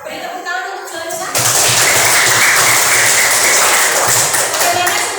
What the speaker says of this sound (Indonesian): Beri tepuk tangan untuk Juanita.